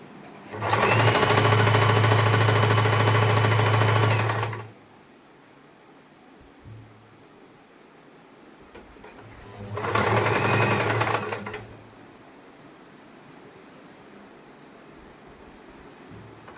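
A sewing machine stitches the hem of an underskirt in two bursts, a long run of about four seconds and a shorter one later, with quiet handling between them and no talk.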